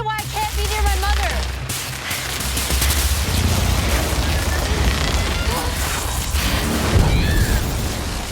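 A film electric explosion crackles and booms in a dense, continuous roar lasting several seconds, with heavy low rumble and sharp crackling bursts, loud and close.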